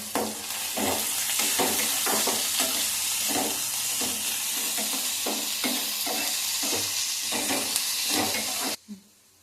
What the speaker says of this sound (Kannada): ಈರುಳ್ಳಿ ಎಲ್ಲ ಸ್ವಲ್ಪ ಫ್ರೈ ಆದಮೇಲೆ ಗಸಗಸೆ ಸೇರಿಸ್ಕೊತಾ ಇದ್ದೀವಿ